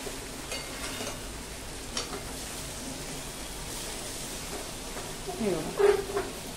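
Okra cooking in masala in a pan gives a steady, soft sizzle with occasional stirring scrapes, faint and continuous, with a brief louder clatter near the end.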